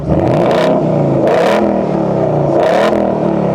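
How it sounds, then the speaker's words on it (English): A Ford Mustang's V8 idles with a deep burble, then is blipped three times in quick, sharp revs that flare and fall back, loud and close with no one speaking. "you Americans know how to produce a brilliant sounding V8"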